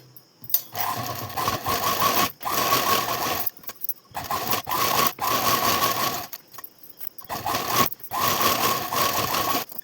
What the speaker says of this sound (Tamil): இதே மாதிரி இந்த பக்கமும் 4 தையல் ஓட்டணும்.